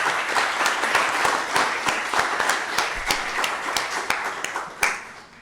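An audience applauds the teaching and learning team at a school district gathering, a dense, sustained patter of many hands clapping with a few sharper claps standing out, fading slightly toward the end.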